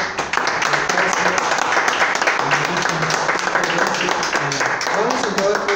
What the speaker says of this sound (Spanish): también quiero que le demos un fuerte aplauso a Ricardo, que nos brindó su lugar